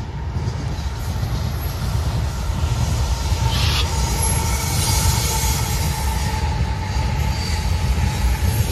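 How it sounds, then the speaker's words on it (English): A Kansas City Southern freight train rolls past a depot street crossing in Berea, Ohio, a loud, continuous low rumble of wheels and cars with a brief metallic squeal partway through, heard close and unbroken throughout. "This is our first train of the day"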